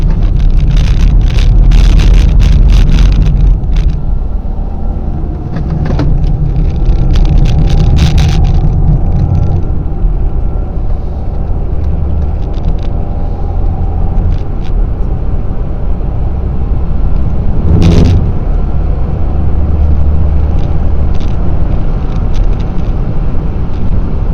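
Renault Clio 1.5 dCi driven through a lap on a course, with a loud, steady engine drone and heavy wind roar running continuously and no voices.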